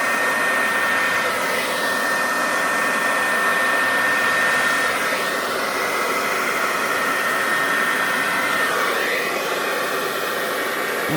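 A new handheld blow-dryer runs continuously, a loud, steady broadband whoosh of fan and airflow that holds constant throughout with no talking.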